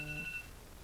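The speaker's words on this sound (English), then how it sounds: "That's my alarm." A phone alarm goes off with a steady electronic tone held for under half a second, then fades into quiet room noise; no one speaks.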